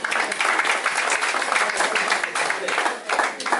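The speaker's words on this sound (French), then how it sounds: "Amen, amen, nous acclamons pour Dieu." A church congregation claps and applauds for God in a dense, continuous burst of many hands, loud and close, with voices mixed into the crowd noise.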